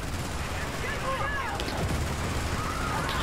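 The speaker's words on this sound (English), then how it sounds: "Oh my god, the minigun got me" Minigun fire in Helldivers, a continuous rattling stream of rapid gunfire with distant explosions mixed in, steady and fairly loud in the game's battle noise.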